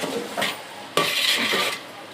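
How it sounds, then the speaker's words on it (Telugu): A large pot of vegetable biryani with tomatoes is stirred with a ladle, giving a few close scraping, sloshing strokes of the ladle against the pot with a sharp knock near the middle. "ఇదిగోండి మా ఆయన కలుపుతున్నాడు చూడండి."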